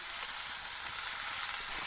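Banana flower sizzles steadily in a hot pan with spices over a clay stove, a dense, even frying hiss that carries on without pause and with no voices.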